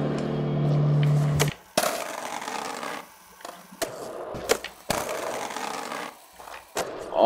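Skateboard wheels roll and clack in the video game Skater XL, with a smooth rolling hum broken by sharp board snaps and landings at irregular intervals, no voices.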